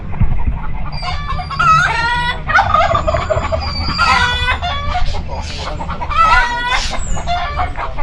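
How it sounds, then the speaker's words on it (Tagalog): Farm fowl, peacocks and ducks, calling loudly and close by, with repeated honking cries and squawks that overlap through the whole stretch above a low background murmur. "Eto mga peacock tsaka bibe."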